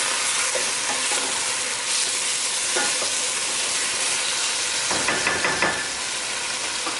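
Mixed vegetables stir-fry in a hot pan for ratatouille, a steady close sizzle with scraping stirs running throughout and a few brighter spatters near the end.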